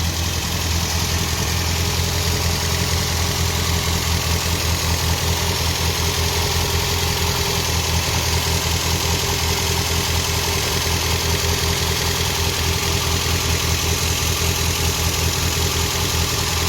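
A Lancia Fulvia V2 engine idles steadily at about 1000 rpm, an even, continuous mechanical hum with a low throb, close and constant without change or voices.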